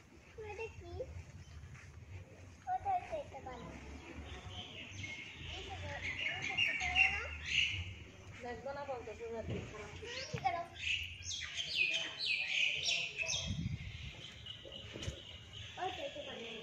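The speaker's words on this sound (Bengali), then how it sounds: "পাখির কিচিরমিচির আওয়াজও শোনা যাচ্ছে।" Birds chirp and twitter in the grounds of Rajban Vihara, a Buddhist monastery in Rangamati, with bright calls scattered throughout, loudest near the middle and end. A person speaks over them.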